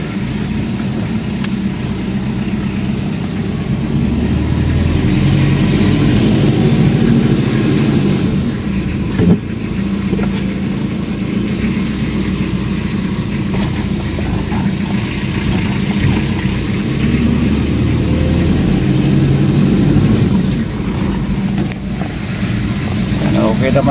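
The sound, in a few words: car engine during test drive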